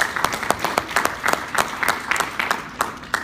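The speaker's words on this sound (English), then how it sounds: "Ladies and gentlemen, let's give a round of applause for our presenters." A small audience applauding presenters after a presentation, scattered individual claps in an uneven rhythm, fairly close and moderately loud.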